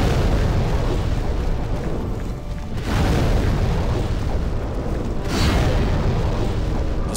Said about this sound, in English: Just full on explodey, huh?